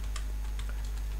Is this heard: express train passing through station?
no